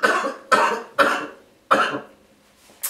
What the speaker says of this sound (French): Je sens que je vais tousser bientôt là.